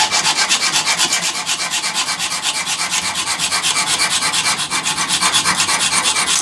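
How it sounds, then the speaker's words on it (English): A cheap fine-tooth hacksaw, 24 or 32 teeth per inch, cuts through metal stock clamped in a vise with steady, rhythmic back-and-forth rasping strokes, loud and close with no talking. "use one of these cheap little hacksaws here with a very fine tooth blades"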